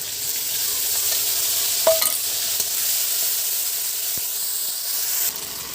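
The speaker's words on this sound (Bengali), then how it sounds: "দিয়ে দেবো টমেটো কুচি, দিয়ে দেবো বেটে রাখা মশলা," Chopped tomato and ground spice paste hit hot oil with whole cumin, a loud close hiss and sizzle with a few sharp spatters and utensil knocks, no voices.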